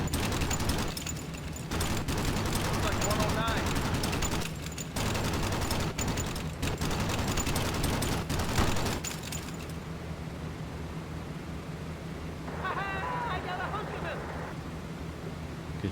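Defensive machine guns of bomber gunners aboard a B-17 Flying Fortress in a video game, loud sustained bursts over engine drone that stop abruptly, leaving only the engine hum.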